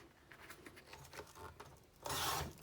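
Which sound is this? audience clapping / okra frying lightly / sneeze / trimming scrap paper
trimming scrap paper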